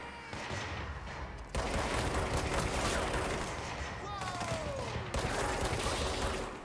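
Rapid gunfire in the video game Control, dense bursts of automatic fire running almost continuously, loud and close, with brief shifts between weapons and some faint game voices.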